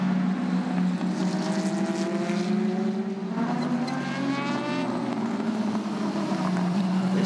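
Porsche 919 prototype race cars at the 6 Hours of Nürburgring, a loud continuous engine drone with rising and falling pitch as cars pass, no talk.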